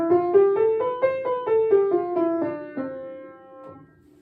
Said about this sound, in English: And a scale would sound like this.